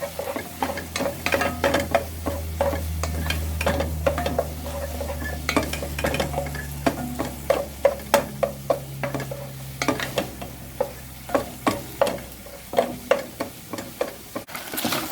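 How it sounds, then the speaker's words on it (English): Salted leeks and okra fry in oil, a continuous sizzle under a steady rhythm of spoon scrapes and taps against the pan, repeating roughly every half second throughout. "we are going to add the salt leeks, so that they can salt in that oil together with the okra."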